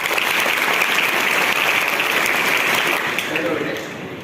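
Schoolchildren at a Saraswati Vidya Mandir school in Khaga, Fatehpur applaud a classmate who answered a question, a dense burst of clapping that holds steady and then fades slightly toward the end.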